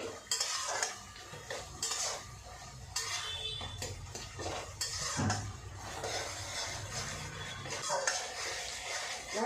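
Spice paste for chitol fish curry stirred and fried in oil in a pan, a steady scraping and clinking of the spoon over a continuous sizzle, close and fairly busy throughout the clip, with a voice speaking now and then.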